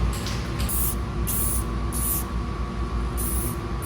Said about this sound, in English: So that should let us spray it with this and